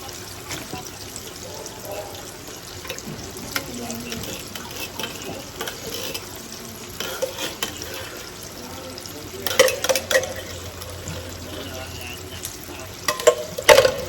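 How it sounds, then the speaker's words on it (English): Beans tumble into a seasoned pan and sizzle steadily while being stirred, with scraping and clattering of the utensil and brief splashy bursts close by. "I'm about to add the beans"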